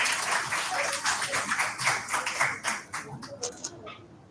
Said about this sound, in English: Can we please welcome him with a round of applause?